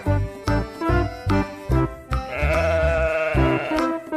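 A yellow toy sheep gives repeated bleats in short rhythmic bursts, followed by a longer tinkling jingle, loud and close with no talking.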